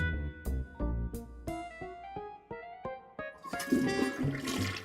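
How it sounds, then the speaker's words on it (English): Toilet flush in the video game Day of the Tentacle Remastered, a rushing swirl of water rising at the end over plucked, tinkling game music notes, no talk. "You really flushed them. Yes. Down the toilet."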